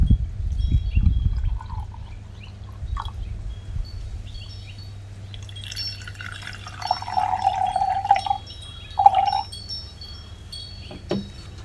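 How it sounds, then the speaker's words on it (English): Water is poured and stirred in glass containers while dissolving baking soda and copper sulfate, with an opening splash, light clinks and later ringing glass tones, close and fairly quiet with no talk. "Let's dissolve 11 grams of baking soda and about 15 grams of copper sulfate in some water."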